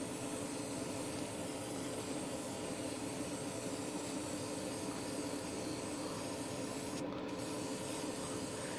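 An airbrush sprays paint onto a 1/24 Eaglemoss Mil Mi-24 Hind helicopter model, a faint, steady hiss of air running without pause, with a brief break near the end and no talk.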